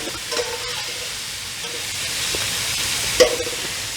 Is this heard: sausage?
yes